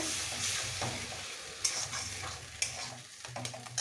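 Fresh winter spinach and a thinned spice paste are stirred in a pan over low heat: a soft sizzle runs under uneven scraping strokes and a few sharper taps of the spatula, nearby with no speech.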